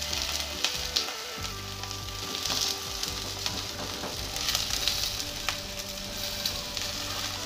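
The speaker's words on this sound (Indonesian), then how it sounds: "Gunakan api kecil. Biarkan terong pelan-pelan matang." Eggplant fries in a covered pan over low heat, giving a steady, close crackling sizzle that continues throughout with small pops and no talking.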